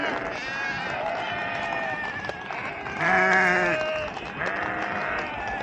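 Goats bleat nearby around a tent on a mountain trek, one loud wavering bleat standing out among fainter calls over a steady background rustle.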